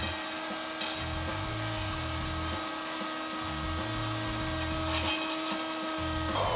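A power saw bought from Lowes cuts hardwood, its motor whining at a steady pitch while the blade grinds through the wood in bursts.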